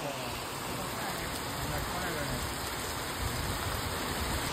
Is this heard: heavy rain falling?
yes